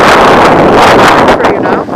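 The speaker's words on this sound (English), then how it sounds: "Got gusty all of a sudden down these parts." Gusty wind at Manchester Airport buffets the microphone in a loud, continuous roar that surges and then eases slightly near the end. No voices are heard.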